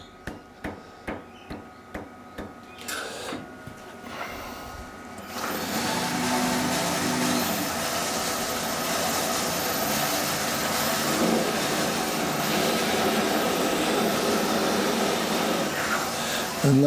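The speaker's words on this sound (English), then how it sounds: "So we'll go back in with a Forstner." Forstner bit boring into a resin shaving brush handle spinning on a lathe, a steady loud grinding drone that runs continuously for over ten seconds after several sharp knocks of setting up.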